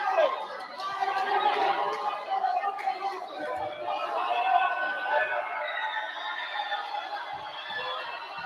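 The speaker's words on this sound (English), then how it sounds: "listen to this crowd and listen to this energy" Crowd at a high school basketball sectional final between Colonia and Mendham, a steady, loud wash of chatter and cheering voices sustained throughout, with no single voice standing out.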